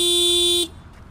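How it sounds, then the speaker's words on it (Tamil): A single horn on a Yamaha FZ Rave 150cc motorcycle sounds one steady, loud buzzing tone for about half a second and then cuts off cleanly, leaving quiet background. "ஹாரன் சவுண்ட் எப்படி இருக்குன்னு நான் நோட் பண்ணுறேன்."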